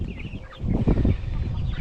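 Chickens, hens and roosters, clucking close by in a coop, with a dip and then a burst of busier, louder clucking and scratching.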